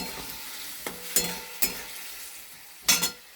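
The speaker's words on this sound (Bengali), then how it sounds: "এই আলুগুলো দিয়ে দিলাম, একসঙ্গে একটুখানি কষে নিই।" Potatoes and spice paste fry and are stirred in a pan, giving a steady close sizzle broken by a few sharp scraping stirs, with no talking.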